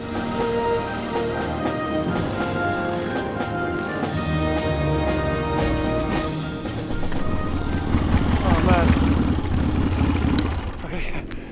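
A motorcycle engine runs at a steady idle-like throttle just before a jump through fire, a low mechanical rumble with a brief swell of revving near the end.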